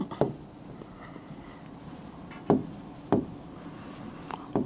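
Writing by hand during a Bengali general-knowledge lesson for BCS preliminary exam prep, a few sharp taps and short scratching strokes spaced irregularly over a faint, quiet background, close up and without speech.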